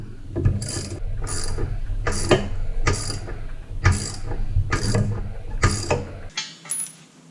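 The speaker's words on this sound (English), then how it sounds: "I'm using a 3/8 ratchet with a 3-inch extension on it and a 1/2-inch deep well socket." A 3/8-inch ratchet fitted with a 3-inch extension and 1/2-inch deep well socket, used while installing a Spartan manual shield, gives a steady run of about nine close, loud rasping clicks in even strokes, then stops abruptly, with no talking.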